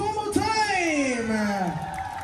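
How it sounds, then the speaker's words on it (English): An audience aboard the Carnival Vista cruise ship cheers and applauds the winner of a hula hoop contest, a busy crowd roar beneath a loud, drawn-out voice calling over it. "Applause one more time!"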